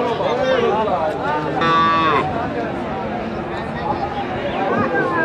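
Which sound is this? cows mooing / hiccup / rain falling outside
cows mooing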